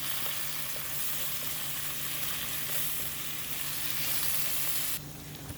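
Sri Lankan lamb curry with onion sizzles hard in a hot pan as it is stirred, a constant loud frying hiss with faint scraping, cutting off sharply near the end.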